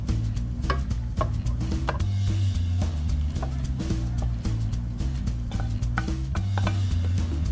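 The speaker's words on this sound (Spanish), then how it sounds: "Y vamos a mezclar bien." Chicken stirred into a thick white sauce with gouda cheese, a steady run of scraping, clacking spoon-on-pot strokes over a constant low hum, with no talking.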